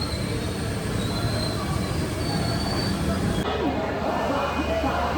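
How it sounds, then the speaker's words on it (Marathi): Inside the Nagpur–Indore Vande Bharat Express as it pulls away from Itarsi Junction, a steady rumbling roar of the moving train carries on throughout, with faint squeals and a slight shift in tone partway through. "आपली गाडी आता इटारसी जंक्शन येथून पुढे निघालेली आहे."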